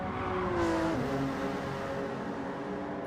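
A GR3 race car engine on the Tokyo Expressway South circuit roars past at close range, a throaty, rough drone that swells and holds steady for a few seconds with no talking.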